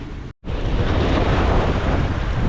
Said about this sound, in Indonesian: Ombak mulai naik guys.